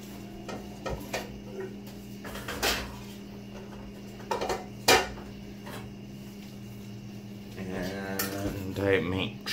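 Metal cookware clanks and knocks a few times nearby, with small clatters in between and a brief murmur of voice toward the end.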